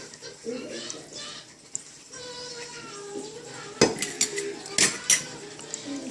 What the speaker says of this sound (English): just kind of mix it around to get everything coated